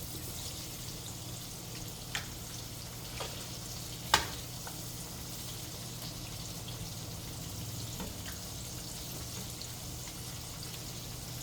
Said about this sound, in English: we're gonna let them pork chops cook